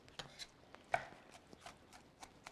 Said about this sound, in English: so I'm just going to chop it by hand